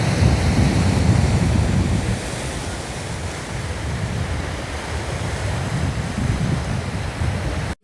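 Ocean waves on the Goa coast roll in a continuous, loud broadband roar with gusting wind noise on the microphone, steady throughout with no voices.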